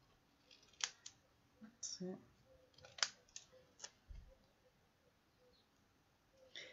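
Sharp scissors snip through card in a quiet craft setting, several distinct cuts spaced irregularly, close and crisp, with occasional brief speech nearby.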